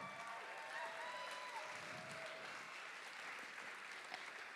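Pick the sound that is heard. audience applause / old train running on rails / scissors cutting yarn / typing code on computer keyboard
audience applause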